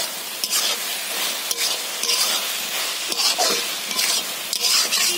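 Ground spice mix sizzles and crackles steadily in a hot pan, close up, with a few scraping stirs and small bursts of spatter, no talking.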